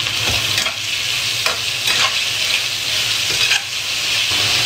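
Food stir-fried in a hot pan sizzles steadily and loudly, with repeated scraping strokes of a spatula at an uneven rhythm and no talking.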